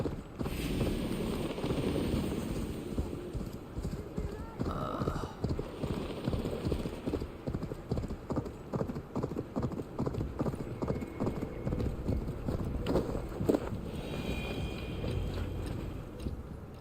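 Steady clip-clop of horse hooves trotting over ground in the video game Assassin's Creed Valhalla, continuous and fairly close, with a faint breezy background.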